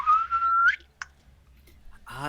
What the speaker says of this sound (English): I will whistle